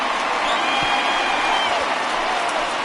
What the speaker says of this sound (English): the home crowd has really come to life here in the bottom of the 8th